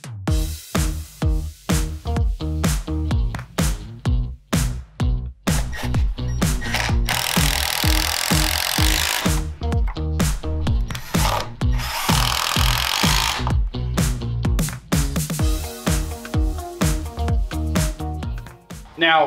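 A power drill drives 2.5-inch Kreg jig screws into wood for a CNC enclosure build, whirring loud and close in repeated bursts and pulses, with a long steady run in the middle and occasional talking.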